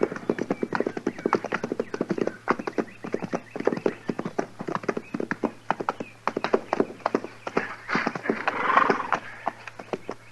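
Horses ridden in an Old West radio drama beat out a close, continuous clip-clop of hooves. The quick, overlapping rhythm runs the whole time over a low steady hum.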